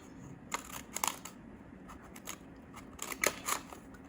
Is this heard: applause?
no